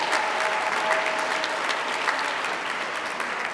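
A crowd at an Indiana statehood bicentennial celebration claps for a Benjamin Harrison impersonator, steady, even applause filling the whole stretch without speech.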